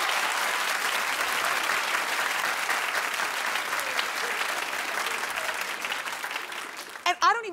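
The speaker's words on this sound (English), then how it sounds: "Clap if you think Rachel knew exactly what she was doing." A television studio audience claps steadily in a dense, even wash of applause lasting about seven seconds, then a voice breaks in at the end.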